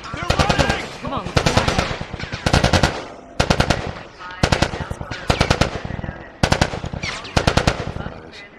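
Automatic gunfire in The Last of Us video game: loud, rapid bursts of machine-gun shots in short repeated volleys with brief gaps between them.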